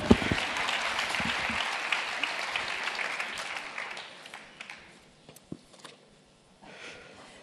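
Audience applause at a Grand-Est regional clinical vignette presentation: a dense burst of clapping that thins out after about four seconds, leaving a few scattered claps.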